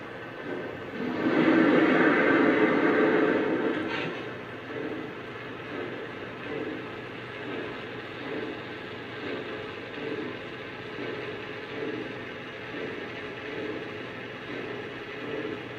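A 3rd Rail B&O T4a Mountain model steam locomotive runs on a track with a steady mechanical whir and rhythmic clicking of its motor and gears, louder at first then settling to a continuous hum.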